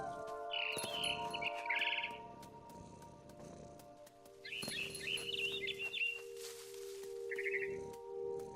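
A frightened bird in the video game What Remains of Edith Finch gives several short bursts of high chirps over soft background ambience, close and clear, with no talking.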